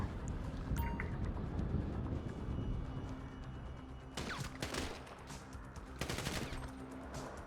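Bursts of automatic gunfire in the GTA V zombie mod, rapid volleys over a steady low background rumble, with two dense clusters of shots standing out near the end.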